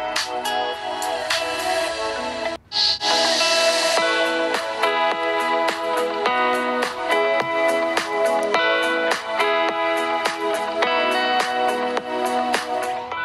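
Music plays loud and continuous from the single mono bottom speaker of a Realme 7i phone held close to the microphone, with steady rhythmic beats and sustained tones and a brief dropout near the start.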